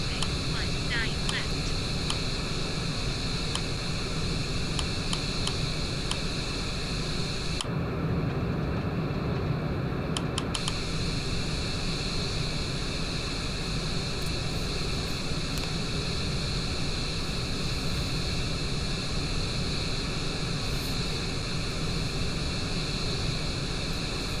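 An airliner rolls along a taxiway in the RFS flight simulator game, giving a steady broadband engine hiss and rumble that stays constant throughout, with a brief quieter dip partway and someone speaking over it.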